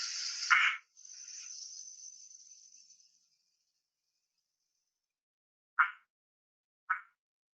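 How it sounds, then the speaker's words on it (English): Mountain goldenback frog calling, a few short sharp high-pitched chirps separated by silence, with a hissy buzz near the start. "that's mountain goldenback frog"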